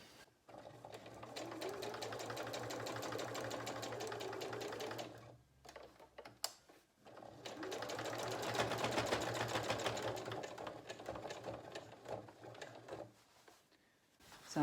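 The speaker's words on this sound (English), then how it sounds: "you're going to sew across it, and you're as well sewing across it 3 times" A domestic sewing machine stitches across the handle of a fabric bag in two long rapid bursts of rattling, buzzing needle action, separated by a short pause with a few mechanical clicks.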